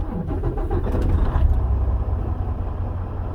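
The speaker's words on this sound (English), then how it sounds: "I'm going to turn the truck on." A Virginia DOT truck's engine cranks and catches, settling into a low, steady idle close by in the cab.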